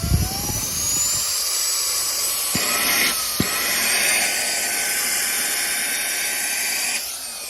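Reikiya HV C10 handheld vacuum and air pump running, a loud steady high-pitched motor whine with airy hiss, holding constant apart from brief clicks and a slight pitch shift near the end.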